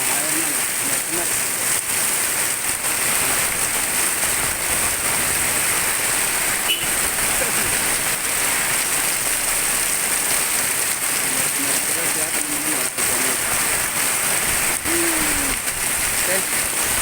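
Heavy rain pours steadily over a street in Cikarang, a dense, unbroken hiss of water hitting surfaces, with a voice faintly heard at moments beneath it.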